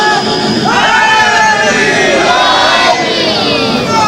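A large crowd at a religious majlis gathering in Chiniot, Punjab, shouts slogans in unison, loud and close, with rising and falling voices repeating in waves throughout.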